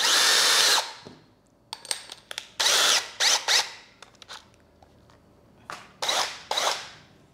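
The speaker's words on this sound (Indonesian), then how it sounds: "kita tes ini kita gunakan mata bor terbesar dari yang punya solid yang ukuran 25" A loud power drill with a 25 mm wood auger bit runs in repeated short bursts, revving up and stopping several times as it bores into wood, with pauses of near silence.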